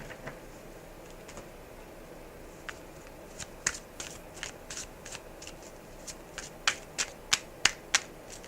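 Oracle cards are shuffled by hand in a quiet room, giving soft riffling and a run of crisp snapping flicks that grow more distinct toward the end.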